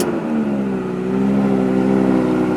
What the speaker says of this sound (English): we're gonna go ahead and start up the vehicle to put it into reverse